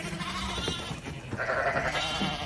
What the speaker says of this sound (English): that's my cue to play some more lamb sounds